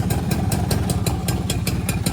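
A V100 motorcycle engine kick-started and running, a steady close idle with a regular rapid pulsing chug and mechanical clatter, loud and continuous with no talk.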